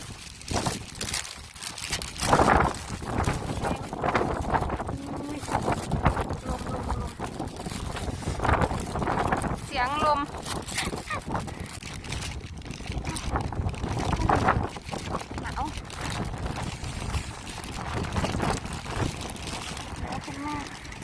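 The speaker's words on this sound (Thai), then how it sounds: "ลมลม" Strong wind buffets the microphone outdoors in snowy winter weather in Korea, a continuous roaring gusting that rises and falls for about twenty seconds while someone talks over it.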